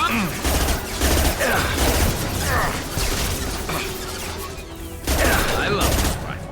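Sniper rifle gunfire in the video game Mass Effect 2, with several loud sharp shots mixed into a dense, continuous battle din that stays busy throughout.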